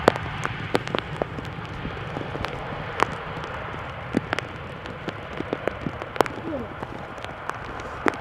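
Rain showers fall at Amsterdam Schiphol Airport, steady pattering on a nearby surface with scattered sharp, close drops over a constant soft hiss.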